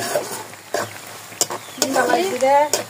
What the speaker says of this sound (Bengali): এটা এখন আমি তেলে দিব রসুন পেঁয়াজ আর শুকনো মরিচ